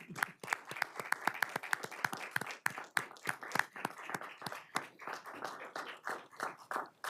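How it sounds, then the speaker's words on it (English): Applause for Lisa at a Prosper Portland board of commissioners meeting: a small group claps in sharp, uneven bursts for about seven seconds, fairly close and without speech. "I'm going to give Lisa a round of applause."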